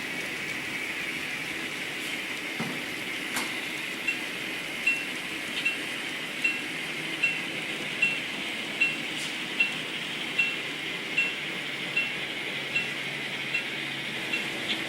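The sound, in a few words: N scale model train running on layout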